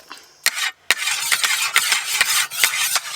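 Boti blade being sharpened before cutting a large fish, heard as a series of sharp, bright scraping strokes in a fairly steady rhythm, close and clear with no talk.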